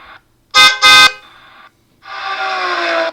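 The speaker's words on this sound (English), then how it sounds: "I want it's like a zoom sound, like it's a car going zoom." A cartoonish car zoom sound effect from the Scratch sound library: two loud, horn-like honks followed by a sustained rushing whoosh, with nothing else around it.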